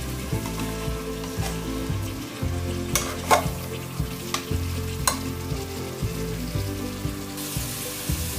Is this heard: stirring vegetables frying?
yes